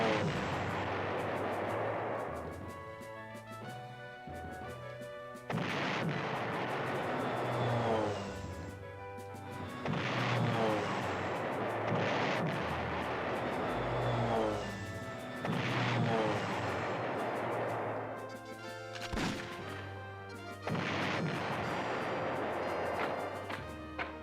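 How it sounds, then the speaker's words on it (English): Anti-aircraft fire in the PlayStation 1 game Panzer General comes as repeated booming bursts roughly every five seconds, each swelling and fading at moderate loudness. "I guess the enemy anti-aircraft fire."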